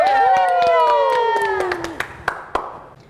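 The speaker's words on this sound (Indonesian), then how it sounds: "Sorak-sorai buat Tuhan Yesus." At an online Sunday school worship service, a congregation cheers for Jesus with loud, sustained shouting voices that trail off while rhythmic, close hand claps continue and grow sparser toward the end.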